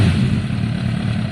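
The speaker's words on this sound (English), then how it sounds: "That is a very smooth engine." A Kawasaki ZL600 motorcycle engine, freshly repaired after running on two cylinders, idles close by with an even, steady low rumble that shows no dips across the short stretch.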